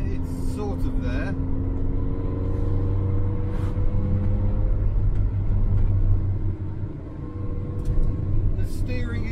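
A Zastava Yugo 55A driving on the road, steady engine drone and road rumble throughout with slight shifts in engine pitch, heard from inside the car while someone talks over it.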